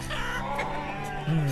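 Chickens clucking in the city-building game Banished, a steady layered farmyard clucking that runs throughout at moderate loudness with no talk over it.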